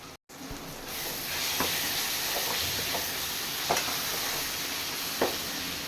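Onion and tomato with ginger garlic paste sizzle steadily in a pan while being sautéed for a crab curry, a soft continuous hiss broken by a few faint stirring taps.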